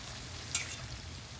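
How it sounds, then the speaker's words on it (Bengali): Masala spice paste fries in oil in a pan as a steady, soft sizzle with a small pop partway through the brief moment. "আমাদের মশলা কষা নিয়ে গেছে দেখেন কত সুন্দর তেল উঠছে"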